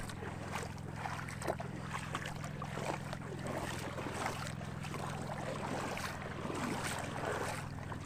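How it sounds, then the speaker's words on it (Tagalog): Steady rushing of strong waves and moving water at a river mouth, with a low motor hum underneath, continuous and fairly loud throughout, no talking. "Dito sa labasan, sa bungad, medyo malakas yung alon."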